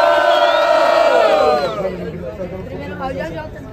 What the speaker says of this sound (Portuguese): Muito barulho pra quem gostou das rimas do AJ.